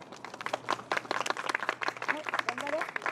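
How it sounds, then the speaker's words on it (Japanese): Warm applause from an audience at a Japanese monkey performance show, steady close clapping throughout with someone speaking over it. "それは皆様からの温かい拍手応援のおかげです"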